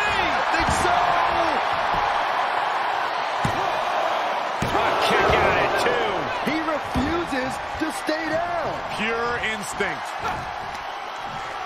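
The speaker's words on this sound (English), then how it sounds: "What a raucous crowd here tonight." Loud arena crowd roaring and cheering throughout a WWE 2K23 Iron Man wrestling match between Brock Lesnar and Drew McIntyre, with thuds and slams, under continuous play-by-play commentary.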